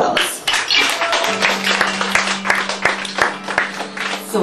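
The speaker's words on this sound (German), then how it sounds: "Das ist Christian. Applaus." A concert audience applauds a band's new drummer, a dense burst of clapping that starts abruptly and holds steady. A sustained low tone from the stage runs beneath it.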